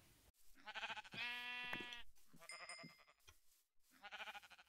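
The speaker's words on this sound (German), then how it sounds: "Ein Schaf." Several sheep bleats from the video game Minecraft, clear and separate, come in short bursts with brief silences between them and no talk over them.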